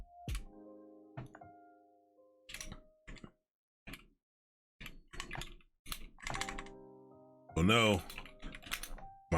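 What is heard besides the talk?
typing on a computer keyboard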